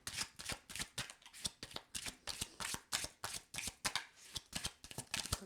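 Tarot cards being shuffled up close, a quick run of crisp riffling flicks repeating at a steady rhythm, quiet and with no talking.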